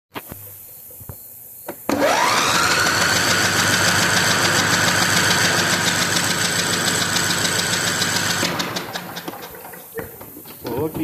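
A Briggs & Stratton twin-cylinder engine cranks over steadily on the starter for a compression test, a loud, sustained whirring drone that runs for several seconds and then winds down, with faint mechanical noise before and after.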